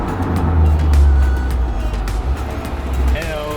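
A Honda Civic FL5 Type R driving on Gorge Road, a hill road, its engine droning low and steady under throttle while someone talks over it.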